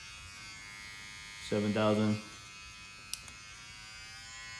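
A VGR hair clipper motor whirs with a steady, high buzz for under a second, with someone talking before and after it.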